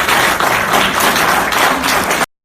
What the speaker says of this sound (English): And the applause you heard there is from this group of people.